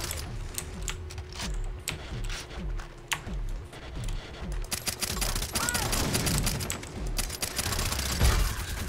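Suppressed gunfire in Far Cry 3: quick, muffled shots crack in a rapid, uneven run over game ambience, growing denser toward the end.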